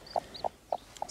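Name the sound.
hen clucking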